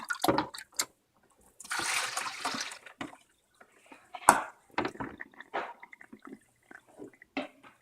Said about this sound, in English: I'm going to take some water out.